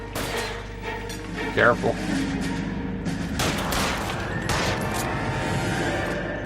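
Gunfire in a shootout in L.A. Noire: sharp, loud shots and bursts that keep coming as a fusillade, some near and some farther off, mixed with a brief spoken word and other game sounds.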